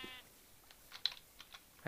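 A Minecraft sheep gives a brief, quiet bleat at the start, followed by scattered keyboard and mouse clicks from the player in a hardcore survival game. No one talks.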